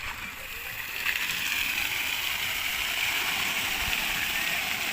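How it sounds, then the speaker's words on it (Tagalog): A park fountain sprays and splashes in a steady, broad rush of falling water, heard fairly close and continuous throughout. "So yung may fountain, binuksan na yung fountain nila dito mga langga."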